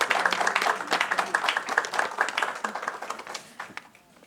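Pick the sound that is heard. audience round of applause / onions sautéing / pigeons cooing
audience round of applause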